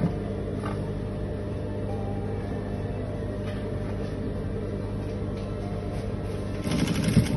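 A sewing machine top stitches a senator-style placket, a steady continuous mechanical whir throughout, close and even, swelling slightly louder near the end, with no speech.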